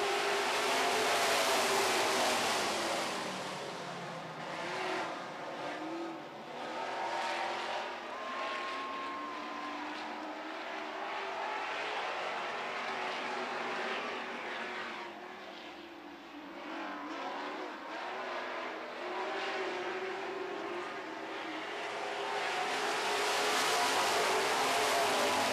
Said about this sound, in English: We're going racing.